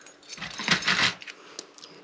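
Pocket keys jangle briefly as someone empties their pockets while getting ready for bed, a close metallic clinking burst lasting about a second, then a few faint clicks.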